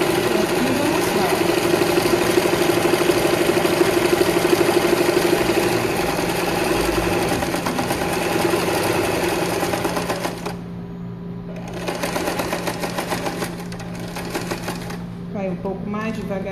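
A sewing machine stitches a collar in steady mechanical bursts, pausing briefly as the fabric is repositioned, while a person talks over the machine throughout.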